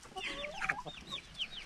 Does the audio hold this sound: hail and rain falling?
no